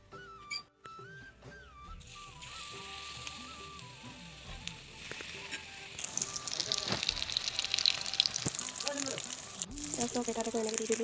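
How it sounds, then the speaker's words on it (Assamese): Dough hits hot oil in a wok and breaks into a loud, rising sizzle and crackle, while someone talks and soft music plays underneath. "এইফালে কেৰাহীটো পাতি দিলোঁ আৰু তেল দিলোঁ, গৰম হৈ গৈছে।"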